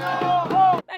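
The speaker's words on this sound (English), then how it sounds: "the crowd moved their protests to the city streets" A street protest crowd shouts together in loud, sustained, tonal chanted cries that stop abruptly, followed by a short burst of further shouting.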